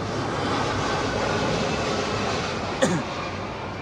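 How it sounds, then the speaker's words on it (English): A steady broadband roar of an airplane passing, constant and fairly distant, with a brief sharper swell near the end. "we have a beautiful airplane going by."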